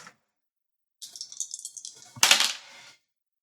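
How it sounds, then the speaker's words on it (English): Percentile dice rolling on a hard surface: a brief click, then about a second of rattling tumbling that ends in a louder clatter as they settle, with silence around it. "Percentile dice."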